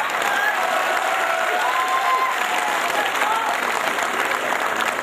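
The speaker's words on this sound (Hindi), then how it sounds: "एक बार तालियां मिलकर के बजा दो।" A crowd at a Hindi poetry recital at a fair claps together in a sustained, even wash of applause, loud and continuous across the whole stretch with faint crowd murmur beneath.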